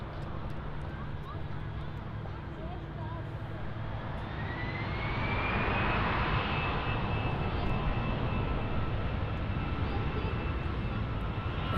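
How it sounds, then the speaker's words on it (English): A Lufthansa Airbus A350-900 lands at Munich Airport, its engine roar building from a steady rumble into a louder, rising whine partway through, with a voice talking over it. "we have the next heavy, the Lufthansa A350-900."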